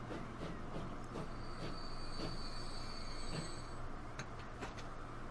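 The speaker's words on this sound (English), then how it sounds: "Yeah, I think that could be a coal train." A steady coal train rolling along on the UK rail network in Transport Fever 2, with a continuous low rumble, rhythmic wheel clatter and a thin metallic squeal above, constant and fairly near with no talking.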